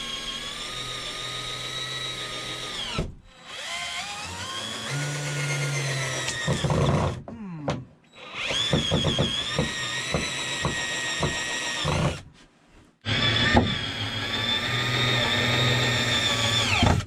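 A power drill drives screws and bores pilot holes while a van is built out, whining in several loud bursts that speed up and slow down, separated by short quiet gaps.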